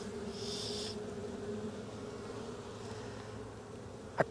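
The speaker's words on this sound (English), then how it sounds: "there's so many nurse bees in here" Honey bees buzz steadily inside an open backyard hive crowded with nurse bees, a dense, even hum held close up throughout, with a couple of soft knocks right at the end.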